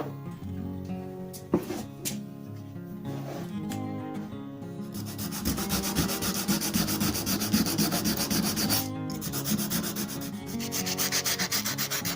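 A Millers Falls hacksaw frame is sanded to remove rust, with brief scrapes and taps at first, then continuous close, steady rubbing strokes of abrasive on metal.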